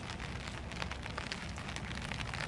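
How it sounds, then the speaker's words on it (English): Cold rain pattering steadily outdoors around a hammock camp in about 40 degree weather, a dense, even hiss of drops with no voices. "Sitting out here in the pitter-patter of the cold rain."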